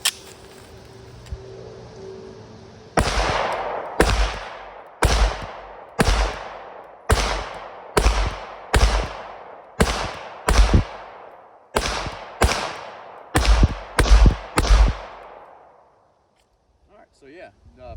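A PSA Dagger pistol loaded with Glock magazines fires about fourteen sharp, loud shots in a steady, evenly paced string, each crack followed by a short ringing decay.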